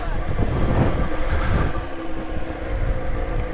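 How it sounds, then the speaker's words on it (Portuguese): A Yamaha XJ6 motorcycle engine drones loudly and steadily while riding in traffic, mixed with wind rush and road noise, with a voice faintly present beneath it. "Essa moto é meio barulhenta mesmo"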